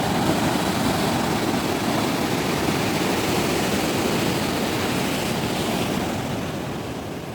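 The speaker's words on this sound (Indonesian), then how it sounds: "Ombaknya makin sore makin kencang." Strong evening surf rolls onto Mbuluk Beach in a continuous, loud roaring wash of breaking waves, steady throughout and easing slightly at the end, with no voices.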